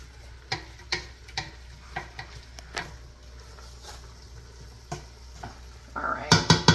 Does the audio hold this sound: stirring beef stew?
yes